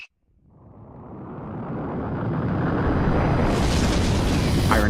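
A Big Bang explosion effect: after a brief silence, a deep rumbling roar swells steadily and grows into a loud, sustained, rushing boom that fills the whole span.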